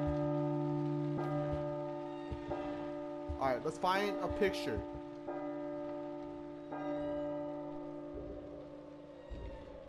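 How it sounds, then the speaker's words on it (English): Church bells ringing in the horror video game P.T., sounding as sustained, resonant tolls struck several times with long ringing tails, while someone speaks briefly over them midway. "And these fucking bells, man."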